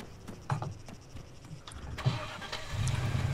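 A car engine starts up inside the Arma 3 Altis Life video game: a couple of short cranking bursts, then the motor catches and settles into a steady, louder idle near the end, with no talk.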